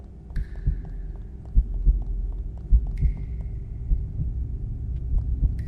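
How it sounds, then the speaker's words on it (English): Steady throbbing heartbeat looping through a quiet video game ambience, low thuds repeating at an even pace over a constant hum, with a couple of brief high tonal chimes. "I guess the heartbeat is just part of the natural background sounds"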